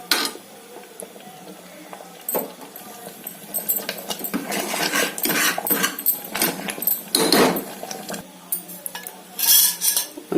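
Metal cookware clanks and scrapes in a home kitchen as a frying pan is set out for tempering, irregular sharp knocks and clatters close by, some louder bursts near the end.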